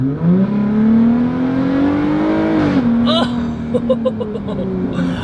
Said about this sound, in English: I cannot believe that Borla exhaust. It just sounds so crazy.